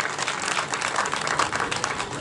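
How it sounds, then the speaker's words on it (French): A crowd at an Ivorian political rally applauds steadily, a dense continuous wash of clapping with some cheering mixed in, loud and sustained throughout with no pauses. "Est-ce qu'on peut applaudir ça?"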